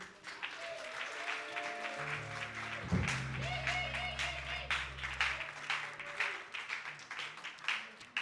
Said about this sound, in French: Les acclamations pour Dieu.